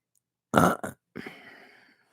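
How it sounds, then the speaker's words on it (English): A single loud burp in two quick bursts, followed by a softer, drawn-out exhale, close up in an otherwise quiet space. "Coughing up all that Gatorade or burping up the Gatorade."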